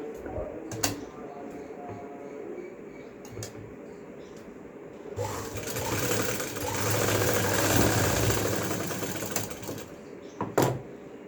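A sewing machine stitches a 27-inch salwar belt in a steady whirring run lasting several seconds, close by, with someone talking before and around it.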